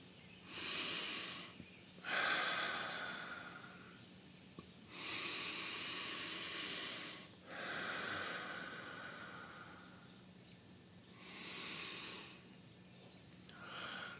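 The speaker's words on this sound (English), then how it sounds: "on the in-breath, breathing in through your nose and out through your mouth" Slow guided meditation breathing, drawn in through the nose and released through the mouth: four or five long, airy breaths close to the microphone, each a soft hiss separated by brief quiet, with no talking.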